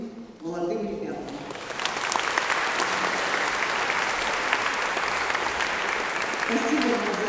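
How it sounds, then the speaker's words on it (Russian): Steady, loud audience applause at the closing ceremony of an international young vocalists' competition, a dense, continuous clapping that swells early and holds, with a voice speaking briefly at the start. "Спасибо вам за эти аплодисменты."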